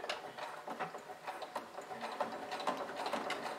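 A sewing machine stitches piping onto a small fabric bowling-style bag, a quiet, rapid mechanical patter with uneven pauses as the fabric is guided along, close and faint, with no speech.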